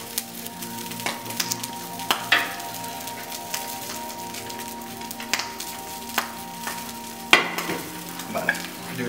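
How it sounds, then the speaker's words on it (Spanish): Mackerel fillet sizzling in a hot frying pan at the end of cooking, with a steady close fry and a few sharp clacks of utensil or pan movement through it, no talking. "Con el calor residual que tiene la sartén, se va a terminar de cocinar hasta el punto que queremos la caballa."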